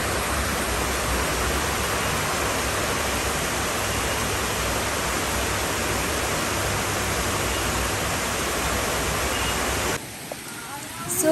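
Steady rain falls outside as a dense, even hiss that holds for about ten seconds and then cuts off abruptly.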